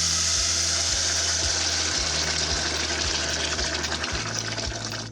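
Boiling water pours steadily and loudly into a pot of rice, a continuous gushing splash with a low rhythmic gurgle underneath, close by and uninterrupted.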